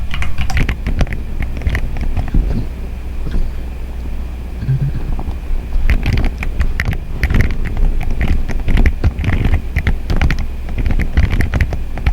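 Rapid, uneven keyboard typing as a database query is entered on a computer, clicks coming in bursts with short pauses over steady background noise, no talking.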